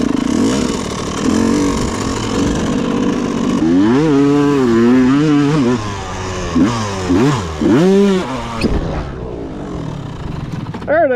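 A loud 125cc two-stroke dirt bike engine revs up and down in quick, rising and falling bursts after a rough, steady idle, then drops back.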